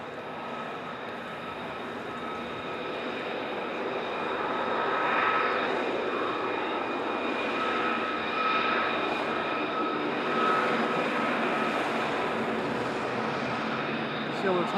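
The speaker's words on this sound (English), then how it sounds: "Oh, we've got an F-32 coming in." An F-35 fighter jet coming in to land at RAF Lakenheath makes a moderately distant, steady engine roar with a high turbine whine that swells and eases, while people talk nearby.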